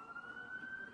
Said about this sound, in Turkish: Burada ambulansın sirenlerinin çalması çok önemli.